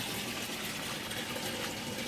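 A newly installed water pump pushing a strong flow of water, a constant rushing, gushing hiss that stays even and unbroken throughout.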